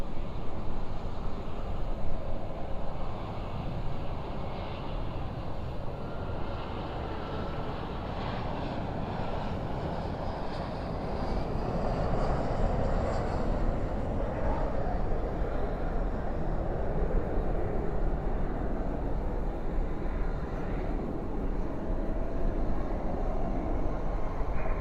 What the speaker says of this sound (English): American Airlines Flight 2393 coming in from Fresno, California, another A321